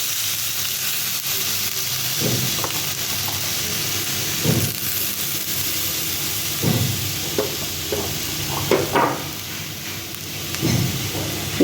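Potato pieces frying in hot oil in a pan give a loud, steady sizzle and hiss, with a few brief stirring scrapes over the frying.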